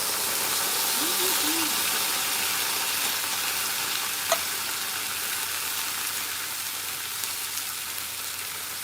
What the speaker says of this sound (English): my oil's nice and hot. And in goes my tomato sauce.